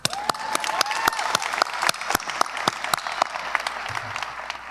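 Applause from a crowd at a 2023 high school commencement ceremony, with sharp individual claps standing out over a steady wash of clapping and a few faint cheers, lasting throughout.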